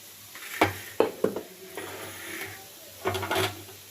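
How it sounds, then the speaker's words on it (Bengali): Nutrela soya chunks frying in a pan, with a soft sizzle broken by a few loud metallic scrapes and clunks of stirring, close and clear. "আমার নিউট্রেলাটা ভাজা হয়ে গেছে।"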